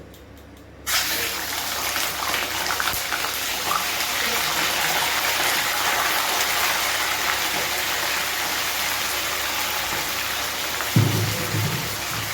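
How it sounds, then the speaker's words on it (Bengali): Chicken pieces for korma drop into hot oil. A sudden loud sizzle bursts in after a quiet second and holds as a steady, dense hiss, with a brief thump near the end. "এখন এই তেলের মধ্যে আমি মাংসটা দিয়ে দিব।"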